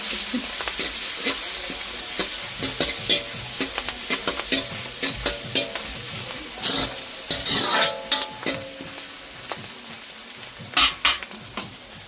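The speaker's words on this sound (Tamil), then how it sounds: "கருவேப்பில் ரொம்ப போட்டு வதக்கி வதக்கி வதக்கி" Curry leaves sautéing in a pan for a crab curry, giving a loud, constant sizzle with repeated spatula scrapes and metallic taps as they are stirred again and again, close to the pan and without speech.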